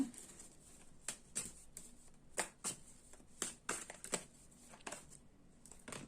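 Soft, irregular riffles and snaps of tarot cards being shuffled, a dozen or so quick bursts spread over several seconds, close up and fairly quiet.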